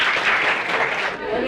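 Loud applause from an audience at a school prize distribution ceremony, a dense continuous clatter of clapping that fades slightly near the end, with faint voices mixed underneath.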